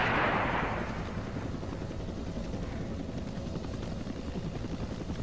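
An AH-1W Cobra attack helicopter in Arma 2 fires on a Vodnik. A steady, loud rotor drone runs throughout, with a rapid, rattling stream of cannon fire beneath it.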